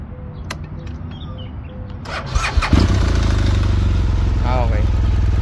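A motorcycle engine is started after a few faint clicks and a brief cranking, then catches and settles into a loud, steady idle close by, running alone to the end.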